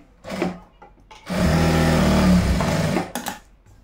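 A sewing machine stitches fabric for boys' shorts in one steady whirring run of about two seconds, close and fairly loud, framed by soft handling noises before and after.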